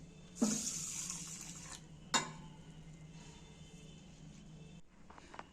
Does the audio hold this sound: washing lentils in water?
yes